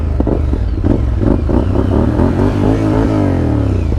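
A small Honda motorcycle engine runs close by on an early morning in the Colorado mountains, revving and clattering in uneven bursts that rise and fall.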